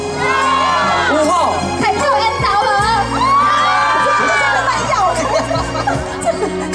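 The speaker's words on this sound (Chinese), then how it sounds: "再给我们点尖叫声" A large outdoor concert crowd at a harbor-side carnival screams and cheers loudly and continuously, with high shrill whoops rising and falling over a steady low musical backing.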